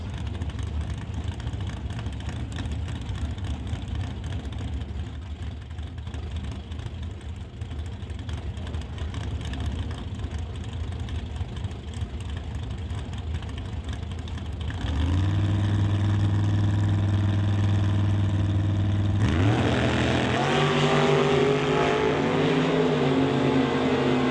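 A dragster and a Ford Roadster at a drag strip, a distant engine rumble building to loud roaring revs and a passing run, heard through a steady broadband roar with music underneath.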